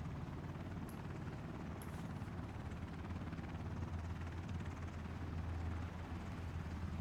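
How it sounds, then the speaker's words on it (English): A helicopter in the video game Ring of Elysium thrums steadily with a low rotor drone throughout, continuous and moderately loud with no speech over it. "Should you get immune when you get on the helicopter?"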